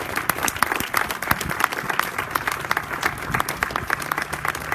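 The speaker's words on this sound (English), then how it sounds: "Let's give them a big round of applause." Dense audience applause at a community ribbon-cutting ceremony, many hands clapping in a sustained, lively burst with faint crowd murmur beneath.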